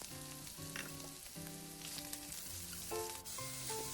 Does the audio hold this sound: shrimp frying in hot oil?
yes